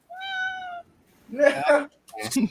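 A house cat gives a clear, drawn-out meow up close, followed by two more wavering meows in an indoor room.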